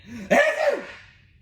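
A voice imitates a sneeze while reading a children's story aloud, a single close, breathy burst with a quick inhale and a sharp, trailing exhale.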